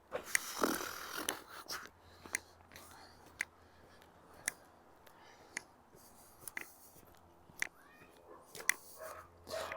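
Dogs barking at each other somewhere off in a snowy Regina neighbourhood in December, scattered sharp barks at a distance over footsteps and street ambience, with quiet talk nearby.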